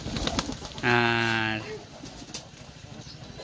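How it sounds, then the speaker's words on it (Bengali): Domestic pigeons on a small pigeon farm, with one clear, close coo lasting under a second, surrounded by faint background ambience and a brief word of speech. "ছোট্ট একটি গুল্লা কবুতর, মানে দেশি কবুতরের খামারিটি"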